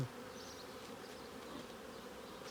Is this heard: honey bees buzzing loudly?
yes